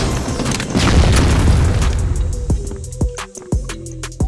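Grenade exploding in the shooter game CrossFire, a loud deep boom that rumbles and fades over a couple of seconds, followed by sharp gunshot cracks.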